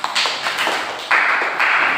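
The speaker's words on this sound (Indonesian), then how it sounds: "Tepuk tangan untuk kita semua." A short burst of clapping from a small group, close by, swelling louder toward the end.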